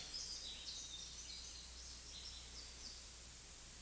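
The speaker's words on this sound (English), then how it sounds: "It's not hard to listen to the birds, is it?" Small birds chirp and twitter outdoors at a distance, faint high calls scattered over a steady hiss of background noise with no voices.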